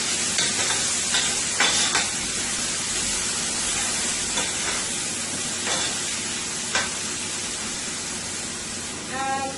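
Seasoning going into hot oil for homemade chicken chow mein, with a steady sizzle and fry under intermittent stirring scrapes, fairly quiet and continuous.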